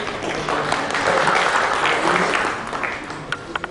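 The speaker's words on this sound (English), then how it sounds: "Round of applause for our speakers." An audience at a banking and financial technology conference applauds the speakers, a full burst of clapping that swells and then thins out into a few scattered claps.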